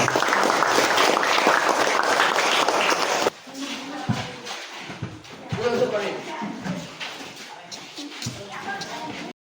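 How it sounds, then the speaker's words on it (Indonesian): A school audience claps for a few seconds, a dense, loud burst of applause that stops abruptly, followed by shuffling, footsteps and a voice talking in a room. "Tepuk tangan untuk kita semua."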